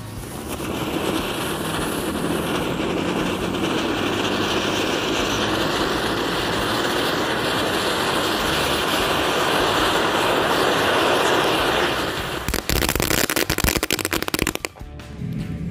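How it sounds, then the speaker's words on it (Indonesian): A 3-in-1 fountain firecracker set in the ground sprays with a steady, loud hissing roar for about twelve seconds, then sputters and crackles unevenly before dying away. "Selanjutnya mercon air mancur 3 in 1. Langsung aja kita nyalakan di dalam tanah."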